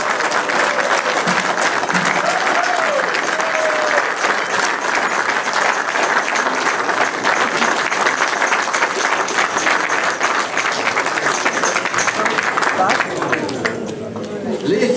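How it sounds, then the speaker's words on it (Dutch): Loud, sustained applause from a large crowd at a key handover ceremony, steady clapping lasting the whole stretch with cheering and crowd noise mixed in, fading slightly at the very end. "Geef Els een daverend applaus."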